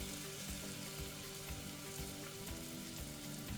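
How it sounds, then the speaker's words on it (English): Onions frying on a slow flame for a Rajasthani mutton red curry, a soft, even sizzle with faint crackles, continuous and alone. "Be patient, do it on a slow flame. Otherwise, the onions will burn."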